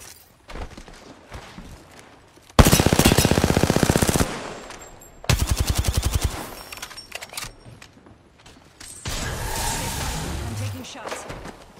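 Bursts of automatic gunfire from a no-fill pubs battle royale video game match, two loud sustained rapid-fire volleys separated by brief pauses, followed by a softer rumbling stretch, with game voice lines and chatter around them.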